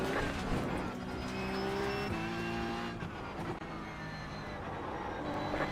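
Porsche Cup race cars in the iRacing game roar continuously with high-revving engine whine, shifting pitch as cars pass and gear changes occur, a dense, steady motor sound throughout.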